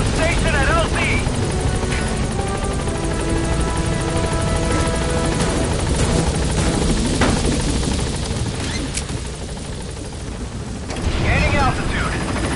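Pequod support helicopter in Metal Gear Solid V arriving at the landing zone, its rotor wash a loud, continuous thudding roar throughout, with a pilot's radio voice heard over it.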